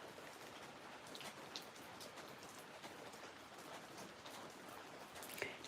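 Gentle morning rain falling around a campsite tent, a soft, steady patter of drops with a few brighter taps standing out, continuous and even with no voices.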